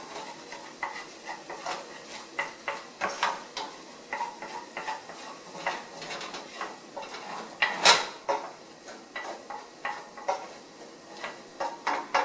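Balsamic glaze being stirred in a hot skillet, with a steady soft sizzle broken by repeated light scrapes and taps of a utensil against the pan, close and fairly quiet.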